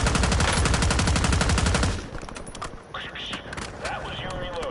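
Weapon reloading in the Warzone video game: loud rapid gunfire fills the first two seconds, then quieter mechanical clicks and clatter follow while voices talk faintly.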